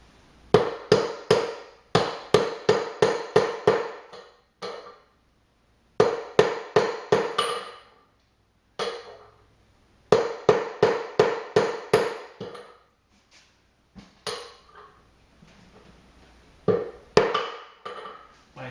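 Hammer blows strike a socket to drive out a rear wheel bearing on a 1995 Enfield Bullet motorcycle, sharp metallic hits in quick bursts of six to eight with short pauses between volleys.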